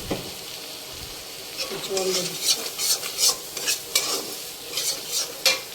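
Coriander and chili powder are stirred in a frying pan for a shrimp and taro-stem dish, with a soft background sizzle and a spoon scraping in quick repeated strokes up close.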